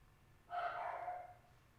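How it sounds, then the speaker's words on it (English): A dog barks once or twice in a short burst at moderate distance, with a low hum underneath and no talking. "There's another dog barking in the background there."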